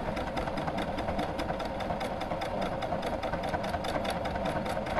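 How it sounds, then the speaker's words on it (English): A Baby Lock Allegro embroidery machine stitches out programmed letters, giving a steady, loud mechanical whir with a rapid regular needle rhythm that runs throughout without pause. "It's amazing to see these stitch out."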